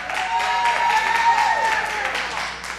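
Audience applause with cheering and whistles, steady and moderately loud throughout, as a band takes off after a sound check.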